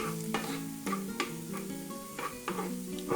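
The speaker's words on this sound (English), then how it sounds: "the leftover heat in my skillet will melt that butter and get everything all incorporated together" Butter melts into a stuffed zucchini filling in a hot skillet, with a steady soft sizzle under repeated scraping stirs of a utensil against the pan, close and moderately quiet.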